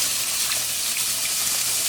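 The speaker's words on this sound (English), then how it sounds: "I'm adding another cup of water into mine." Continuous splashing rush of water being poured into a pot of gumbo, close and steady for the whole stretch, with no voices.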